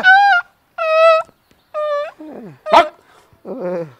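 A dog whimpers in several drawn-out, high whines, then lets out sharp yips and a wavering cry, close by, with short pauses between.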